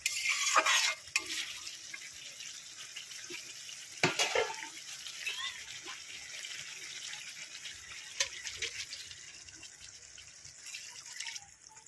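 Potatoes are stirred in a pan while cooking for a rohu fish curry with ridge gourd. Close scraping and clanking come in bursts, along with faint watery sizzling and brief quiet gaps.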